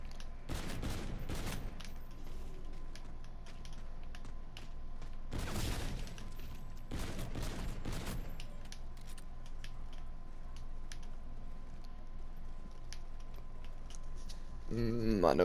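A pack-a-punched gun in Call of Duty: Infinite Warfare Zombies fires in loud, dense bursts, with three main volleys standing out over a constant game soundtrack and background hum.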